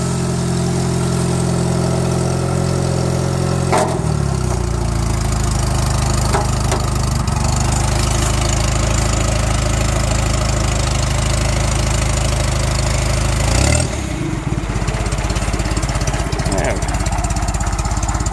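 A 1974 Satoh Elk 550G tractor with a small four-cylinder gas engine runs close by, a loud steady low rumble and idle that shifts slightly around midway, with someone talking over it.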